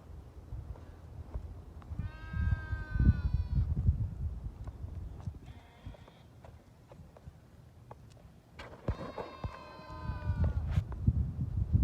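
Outdoors in the wind, goats let out two loud, drawn-out wavering screams a few seconds apart, with a fainter call between them over a low rumble of wind and shuffling movement.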